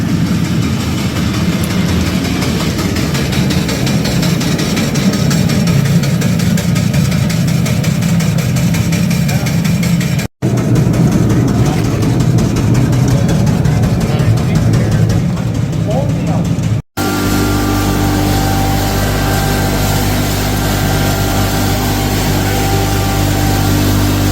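An animal feed mixer machine runs with a loud, steady low-frequency engine drone and mechanical rumble, continuous throughout with a couple of brief cut-outs and a shift to a more tonal hum near the end.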